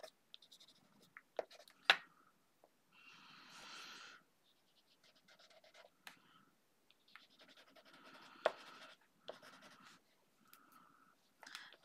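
A Tim Holtz watercolor pencil scratches across paper in short, irregular strokes, faint and close, with small pauses between bursts of coloring.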